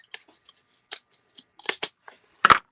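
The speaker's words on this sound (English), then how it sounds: "Got my scissors." Scissors cut open a package in a handful of sharp, separate snips and clicks, sparse at first and then louder and closer near the end, with no talk over them.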